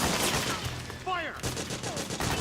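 Gunfire in the video game Metal Gear Solid 4 rattles on as a dense, continuous volley of shots, with a brief shouted voice partway through.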